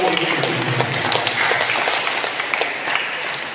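An audience applauding together in a steady, dense wash of handclaps that carries on for several seconds, with scattered voices faintly underneath.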